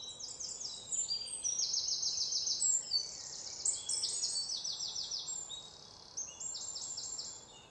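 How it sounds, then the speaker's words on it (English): Birds sing along a nature walk at Boone Hall Oasis, with repeated bright trilling phrases from several birds overlapping continuously over a soft outdoor background. "The birds singing."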